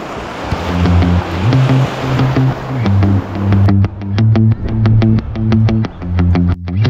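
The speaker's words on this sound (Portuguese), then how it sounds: "E essa é a praia de Maceió, só tranquilidade" Ocean surf rolls onto the beach at Praia de Maceió in Camocim, Ceará, as a steady broadband wash of breaking waves with wind noise and a low tonal hum, loud and continuous with no talk.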